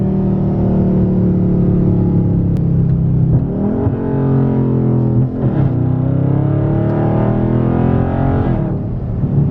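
A 2021 widebody 392 Scat Pack engine drones loudly, then revs sharply several times as it downshifts from third to second gear, the pitch jumping up and settling in repeated surges.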